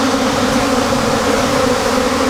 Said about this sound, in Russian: Массивный, просто пчелы гудят, сидят везде, на крышках улья